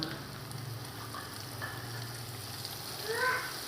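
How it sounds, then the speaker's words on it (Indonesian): Squid dropped into hot oil, giving a soft, steady frying crackle with light sizzling at a moderate level. "minyaknya udah panas, kita langsung masukin aja cuminya"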